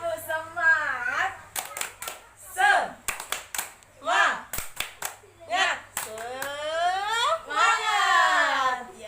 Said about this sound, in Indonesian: Tepuk semangat yuk. Tepuk semangat.